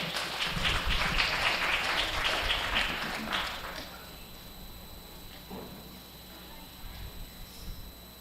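Applause from the crowd at a junior goat show at a county fair, a brisk patter of many hands that swells for a few seconds, then fades into quiet arena murmur.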